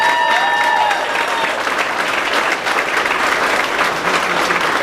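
Loud, sustained applause from a crowd at a Republican political rally in Sheboygan, a dense steady clatter of many hands with some cheering, lasting the whole stretch with no speech over it.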